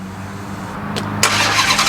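A Dodge Hellcat's engine catching on a remote start: a quiet idle hum, then a sharp burst of cranking and ignition at about 1.2 s that settles into a loud, steady rumble close by.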